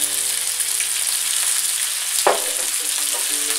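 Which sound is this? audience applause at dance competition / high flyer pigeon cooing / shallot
shallot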